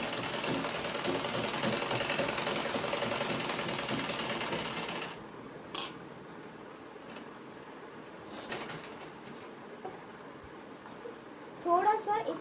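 A sewing machine runs steadily while stitching along the neckline of a deep neck blouse, a continuous close mechanical whirr that stops partway through, followed by quieter handling noises and soft clicks.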